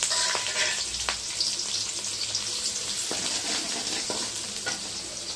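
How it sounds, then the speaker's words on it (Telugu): Green chilies and finely chopped onions frying in hot oil for biryani give a steady close sizzle with occasional stirring scrapes and clicks, no voices. "నూనె అయితే వేడెక్కింది. పచ్చిమిరపకాయలు ఎర్రగడ్డలు అయితే సన్నగా తరిగిన కదా, అవి వేసుకున్నాము."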